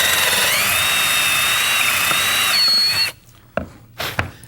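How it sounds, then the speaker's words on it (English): A power drill with a nearly 3/8 inch bit bores out a stripped lag screw hole, its steady high whine running close and loud for about three seconds before stopping, followed by a few knocks and clatters. "So we're going to go up to almost a 3/8 inch bit here and bore this out."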